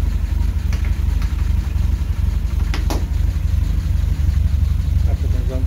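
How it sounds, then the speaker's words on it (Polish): A car engine idles steadily with the hood open, a close, even putter with a fast regular pulse; someone talks over it. "Jak widzimy, silniczek sobie ładnie pyka."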